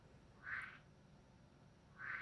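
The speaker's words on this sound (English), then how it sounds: "And there's a frog." A frog croaks outdoors after a day of rain: two short, bright croaks about a second and a half apart over a quiet, faint background.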